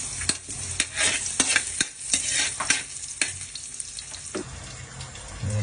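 Garlic sautés in a pan, a constant sizzle broken by repeated sharp scrapes and taps of a stirring utensil, close and moderately loud.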